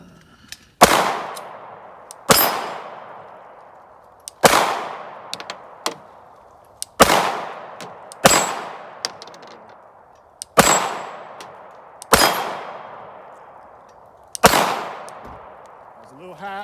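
A Glock 19 pistol fires at an outdoor range; roughly ten sharp shots come at uneven intervals, each followed by a ringing clang from steel targets.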